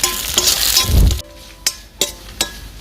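Curry leaves and dried red chillies hit a pan of frying onions with a loud, close sizzle and stirring, which then drops to a quieter crackle broken by a few sharp clinks of a utensil against the pan.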